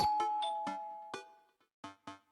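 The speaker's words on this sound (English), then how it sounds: "Just as I'm heading towards my room, the doorbell rings" A chiming electronic doorbell in a video game rings, a sustained two-tone ding followed by a couple of short, softer chime notes and then quiet.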